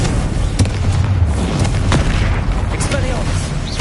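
A Confringo blasting spell explodes in Hogwarts Legacy amid a busy fight, with several loud booming impacts and sharp cracks over a dense, continuous rumble of combat.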